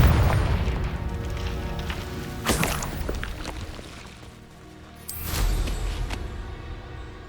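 Fire spell explosions in Hogwarts Legacy, two loud booming blasts about three seconds apart, each with a sharp crackling burst and rumbling tail over a steady low game ambience.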